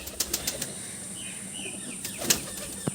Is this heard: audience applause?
no